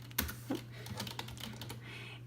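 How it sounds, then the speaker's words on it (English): Soft keystrokes tap on a computer keyboard at an uneven pace, a few quick clicks with short pauses between them over a low steady hum from the room. "I will be typing in daily."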